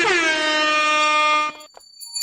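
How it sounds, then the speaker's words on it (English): A DJ air horn sound effect plays as two loud blasts, one long sustained brassy honk lasting about a second and a half, then a brief gap before a second blast begins at the very end. "The double DJ air horn"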